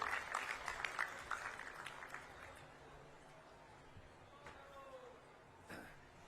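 An audience at a public programme claps as a guest is invited to the stage: dense, fairly loud applause at the start that thins out and fades within about two seconds, followed by quieter room sound and a faint voice.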